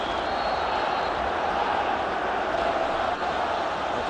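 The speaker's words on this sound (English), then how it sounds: "he's certainly brought the crowd to its feet" A steady broad roar of a football crowd cheering a Rangers goal in a Champions League match against Steaua Bucharest, continuous and loud with no distinct breaks.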